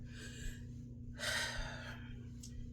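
A single breath out during a slow-paced wrist-weight workout, a close, breathy exhale about a second long over a steady low hum, with a fainter puff following.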